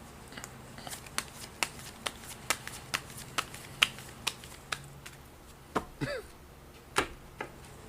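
Tarot cards are handled and shuffled, giving a regular series of sharp, close snaps about every half second, with a brief scraping slide near the end.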